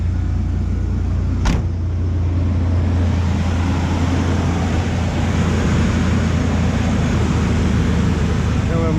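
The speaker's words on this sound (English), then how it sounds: "let's turn the truck on" Chevrolet Astro van with a coolant leak: after a brief start-up burst, the engine settles into a steady, loud low idle rumble that runs unbroken to the end, with no talk.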